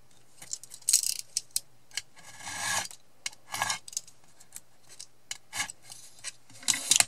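Scissors snip through card for a die-cut card project, with a series of short, crisp cuts in an irregular rhythm, close and clear, with no talking.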